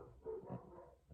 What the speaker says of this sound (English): My dog is barking at the weed whacker.